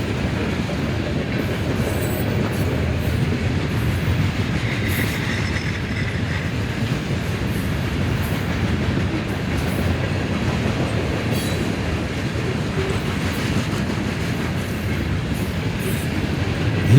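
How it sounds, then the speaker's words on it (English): A CSX mixed freight train with steel coil cars rolls steadily past at close range in East Central Indiana, a continuous heavy rumble with rhythmic wheel clatter and faint metallic squeals. "these have been two really great trains with mixed freight."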